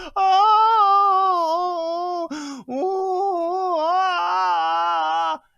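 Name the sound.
girl crying and wailing after being shot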